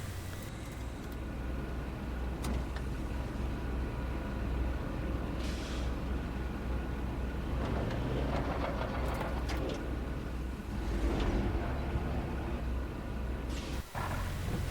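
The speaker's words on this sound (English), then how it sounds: "What you just heard there was an example of 2 different vehicles as heard from within the cab" A continuous low engine rumble and drone from inside a truck cab in the video game Roadcraft, two different vehicles in turn, with some mechanical rattles and shifting tones over the steady hum.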